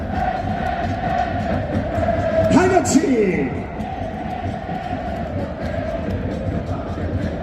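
Football fans of Anyang celebrate a 1-0 lead at a sparsely attended Wednesday night match, a broad crowd roar with chanting voices rising to a brief peak, then settling into steady, sustained noise.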